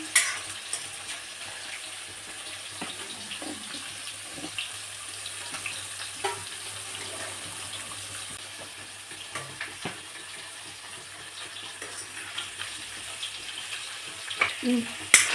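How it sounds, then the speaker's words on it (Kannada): Mustard seeds dropped into hot oil in a home kitchen, a low steady sizzle with small scattered crackles and a few sharper pops near the end, faint and fairly distant. "ಆ ಕಡೆ ಎಣ್ಣೆ ಕಾದಿದೆ ಸ್ವಲ್ಪ ಸಾಸಿವೆ ಹಾಕೋಣ"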